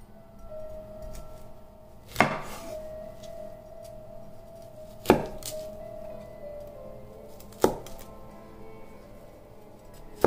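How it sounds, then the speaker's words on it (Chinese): A knife chops through broccoli on a cutting board in a kitchen, giving four sharp, separate cuts a few seconds apart over a quiet hum, with no talking. "这西兰花已经水里泡了10分钟了，洗了几遍，把它切开"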